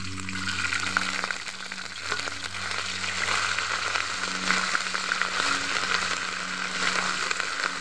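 Cumin paste and ginger paste, added with bay leaves, fry in a pan with a continuous loud crackling sizzle, close up, and a low steady hum running underneath.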